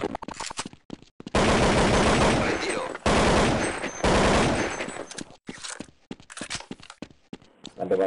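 Bursts of rapid gunfire in a game, loud and sustained for a few seconds at a time, separated by short gaps with voices and scattered clicks.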